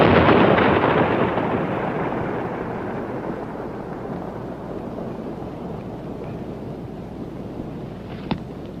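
Loud explosive blast fired at Cinder Lake, a sudden heavy boom that rolls out and slowly fades into a long rumbling decay, with a faint sharp crack near the end.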